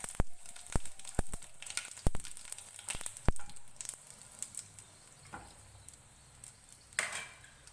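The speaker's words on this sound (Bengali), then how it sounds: "এবার আমি দিয়ে দিচ্ছি গোটা জিরে আর একটা শুকনো লঙ্কা।" Whole cumin seeds and a dried chili hit hot oil in a pan, giving a soft crackling sizzle with several sharp pops and spits early on that settle into a quieter hiss.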